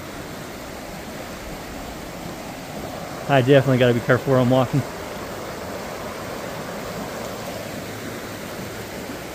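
A river flows in a steady broadband rush outdoors, constant and fairly close, with someone speaking briefly over it partway through.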